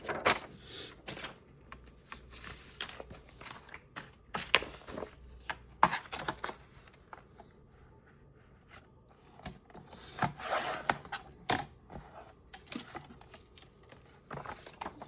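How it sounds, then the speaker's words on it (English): Paper being trimmed by hand during junk journal crafting, intermittent close scraping and cutting strokes in short bursts separated by quiet pauses, no speech. "Trim off the excess there."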